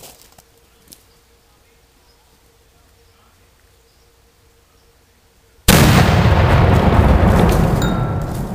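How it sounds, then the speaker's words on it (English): A 7-pounder mountain gun fires a 3-inch Navy projectile at a thick steel plate backed by concrete blocks outdoors. A quiet lull with faint background sounds ends in a sudden, very loud blast, followed by a sustained roaring rush to the end. "That was 7-pounder mountain gun with 3-inch Navy projectile."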